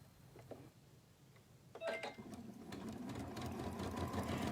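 A home sewing machine stitches a seam along a cloth guide, its needle chattering in a steady mechanical rattle that starts faintly, pauses, then runs continuously and grows louder.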